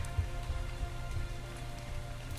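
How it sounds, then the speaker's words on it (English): Rain falling in the video game Dark and Light, a steady soft patter of drops on surfaces with no talking. "I think it's now raining."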